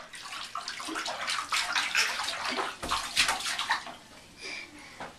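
Water sloshes and splashes steadily in a bathtub as a small child is being bathed, with irregular bursts of moderately loud splashing throughout.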